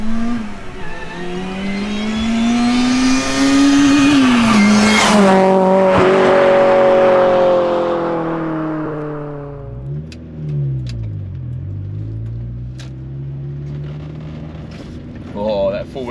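A supercharged Honda Prelude track car with a factory gearbox and four-wheel steering revs loud and close, its engine climbing steadily in pitch, peaking, then dropping away and settling into a lower, uneven idle.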